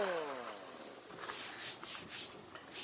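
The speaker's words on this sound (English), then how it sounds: "We're going to go ahead and just do some sanding on this." Steady abrasive scraping of coarse sandpaper on car paint down to metal, rising into several short rhythmic strokes, close and moderately loud with no talking.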